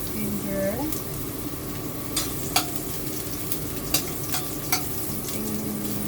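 Ginger frying in hot oil for pinakbet, a steady crackling sizzle up close with a few sharp utensil taps against the pan, a faint tonal hum, and quiet background voices.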